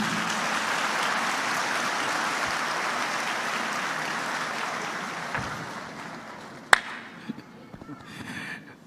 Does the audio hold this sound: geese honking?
no